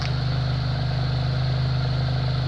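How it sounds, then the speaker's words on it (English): A white 2015 Honda CR-V SE running at idle, recorded at the exhaust: a steady, even low hum with constant loudness and no revving. "Now I wanted to give you a shot of the exhaust as the motor runs"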